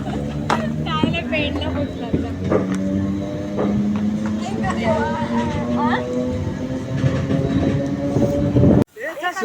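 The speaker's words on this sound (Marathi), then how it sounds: "गाडी आता ट्रेन आली आहे" A Konkan Railway train rumbles and clatters nearby as it arrives at a station, with a sustained hum, while people talk over it; the noise cuts off abruptly near the end.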